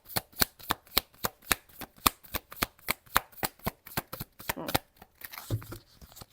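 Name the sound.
shuffling tarot cards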